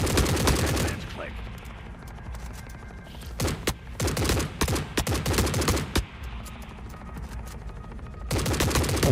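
Automatic AK rifle fire in the shooter The Forever Winter: long, loud bursts of rapid gunshots that stop, then resume in dense volleys, close-up and dominating the mix.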